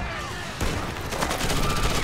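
Dense, continuous gunfire from a video game trailer with a bomb scene set near Times Square, loud rapid bursts that fill the short stretch with no clear talk over them.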